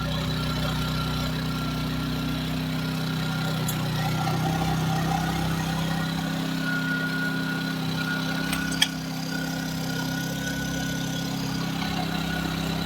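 A Honda EBK650 generator engine runs steadily right after a kick start, a continuous close mechanical drone with a low hum at idle, with no voices over it.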